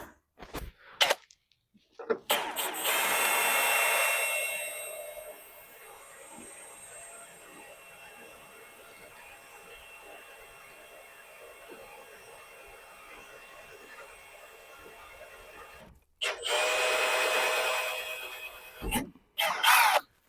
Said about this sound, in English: I think I might go get a new drill bit.